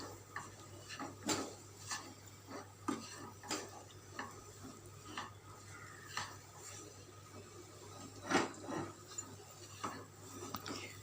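Sapota halwa with country sugar being stirred in a pan: quiet, irregular scrapes and taps of a spoon against the metal, spaced about a second apart, over a faint steady hum with no talking.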